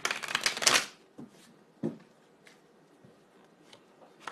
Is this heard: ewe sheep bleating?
no